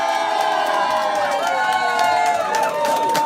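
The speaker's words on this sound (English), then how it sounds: "let's get a cheer here for Chess Crosbie" A crowd cheers and whoops loudly for Ches Crosbie's Windsor Lake by-election victory in September 2018, a dense, sustained roar of voices that stays steady and close throughout.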